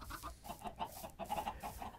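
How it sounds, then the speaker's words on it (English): Several Minecraft chickens clucking in quick, busy bursts, a steady chatter of short calls overlapping one another, fairly close. "now I have chickens running all over"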